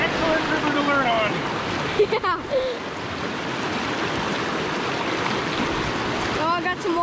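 Rushing river water on the Yaak River in Montana, heard from a raft, with a steady broadband wash of flowing current and wind throughout and people talking and calling out briefly over it.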